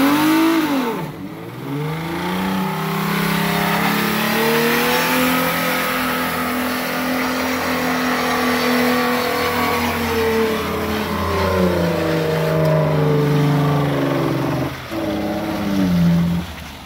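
A car engine revs hard and holds near the limiter during a neutral drop, loud and close, the pitch swelling and dipping in long sustained pulls with no talking.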